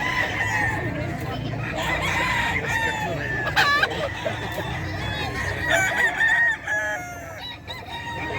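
Roosters crow and cluck at a pet market in Bocaue, several birds calling one after another over a steady crowded background, with faint voices mixed in.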